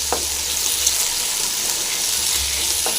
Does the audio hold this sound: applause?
no